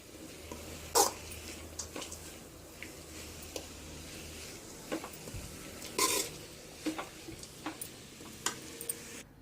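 Amaranth leaf fry with ground paste mixed in is stirred in a pan, quiet sizzling under scattered clinks and scrapes of a spoon against the pan, with a few sharper knocks, no talk.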